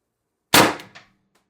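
A TR50 HPA air rifle fires a single 12.7 mm, 8.4 gram steel ball bearing with no restrictor: one loud, sharp crack that decays quickly, then a short metallic after-ring, with silence before and after.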